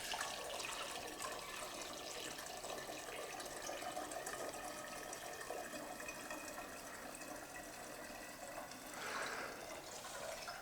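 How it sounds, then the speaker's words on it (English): Apple cider pours steadily into a mead mix, a continuous soft liquid splashing and trickling that stays even throughout, faint and with no voices. "let's go ahead and add in some of our apple cider"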